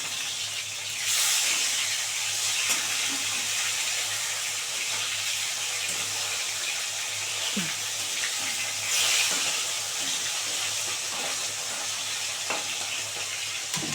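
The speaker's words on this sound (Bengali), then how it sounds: "মাছ এক পিঠ ভাজা হয়ে গেছে, উল্টে দিই।" Snakehead fish fry in a pan of hot oil, one side already browned before flipping, giving off a steady, close sizzling hiss that runs unbroken with small bubbling crackles and no voices.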